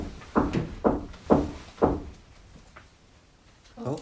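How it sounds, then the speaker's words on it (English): Four sharp knocks on a wall inside the allegedly haunted Conjuring House, evenly spaced about half a second apart, close and fairly loud, followed by a quiet pause and a faint later sound. "And I'm going to knock on the wall again."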